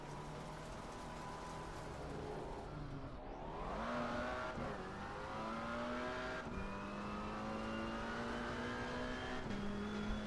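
Race car engines at Zolder in a multi-class sim racing video game, with a steady roar that dips under braking around three seconds, then climbs through several upshifts, alongside faint tire noise and no talking.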